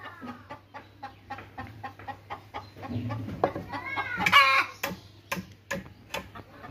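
Chickens in a coop cluck and call in short, repeated bursts close by, with sharper ticking clicks and a steady low hum running underneath.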